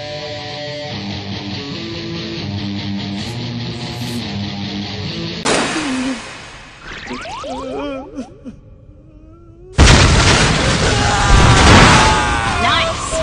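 Two sudden, loud, broadband cartoon explosion blasts, the second harsher and sustained, cut in amid music and animated voices.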